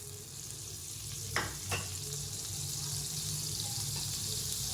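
Butter sizzles softly in a hot kadai on the stove, a steady low crackle with a couple of brief scraping stirs partway through.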